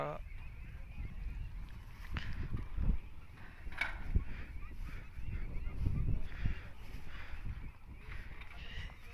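Ducks of a new breed at a duck farm in a haor wetland give scattered honks and quacks at low volume over background noise, with voices talking in the distance.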